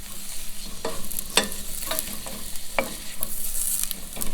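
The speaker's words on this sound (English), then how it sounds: "So I'm going to get those onions all up in that butter there." Onions frying in butter for jerk turkey gravy, a close sizzle punctuated by several sharp scraping stirs of a utensil against the pan at irregular intervals, no speech.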